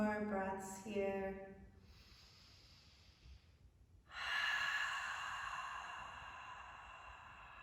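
Slow, deep yoga breaths during a hatha session: a long breathy exhale trailing off, a quiet pause, then a strong drawn-out airy breath, close and soft in a quiet room.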